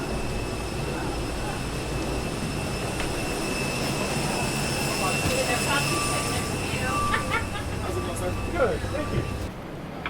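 Steady jet engine roar inside an airliner cabin during a flight, a broad even drone throughout with faint tonal hums, a few soft clicks near the end and people talking over it.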